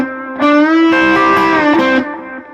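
A single electric guitar note, D, bends a full step up to E and is held, a clear sustained tone with slight distortion that rings on before fading.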